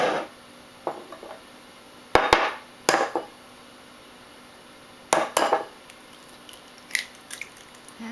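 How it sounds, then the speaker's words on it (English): Whisk or fork beating an egg in a bowl for a puff pastry glaze, heard as several short bursts of clinking and scraping against the bowl, separated by quiet gaps, close and fairly loud with no talk. "we can beat the egg for the glaze"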